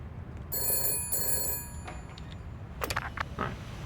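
A telephone rings in the detective video game Shadows of Doubt, two bright electronic ring bursts in quick succession, followed by a few short clicks and taps, with a steady low background hum.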